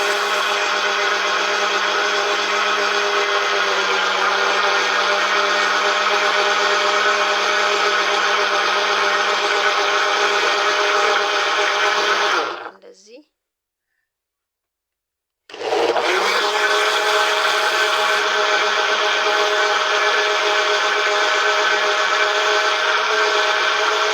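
An electric blender grinds banana with sugar in a loud, steady whirring drone, stops briefly for a few seconds of silence, then starts up again at the same pitch.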